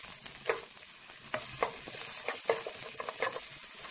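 Bell pepper stir-frying over medium-low heat in a pan with carrot-infused oil, soft sizzling under intermittent scraping and clattering strokes of a spatula, close and moderately quiet.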